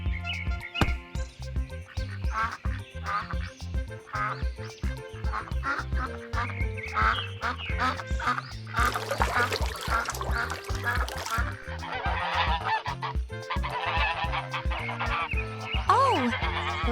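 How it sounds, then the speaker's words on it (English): Ducks and geese on a farm quack and honk in a busy, close chorus of rapid repeated calls, with a burst of louder overlapping squawks in the middle and a few higher rising cries near the end. "Oh, the little ducks and geese are so adorable."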